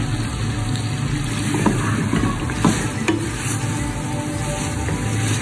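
Chicken tikka being fried in oil for biryani, a loud, close, continuous sizzle with scattered stirring clinks and scrapes throughout.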